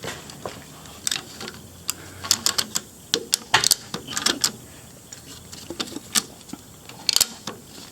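A ratchet strap is clicked tight in a garage, giving a series of sharp, close metallic clicks in irregular bursts with short pauses between them.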